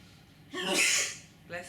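A single sneeze during a breathing and tapping session, a sharp burst with a breathy intake, followed by a short vocal sound.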